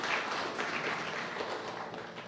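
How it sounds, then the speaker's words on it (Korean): A congregation applauds at a church ordination and retirement ceremony, giving sustained, dense clapping from many hands throughout, moderately loud and diffuse. "큰 박수로 부탁드립니다."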